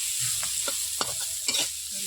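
Onions fry in a pan until reddish, with a soft steady sizzle and a few quick stirring scrapes at close range.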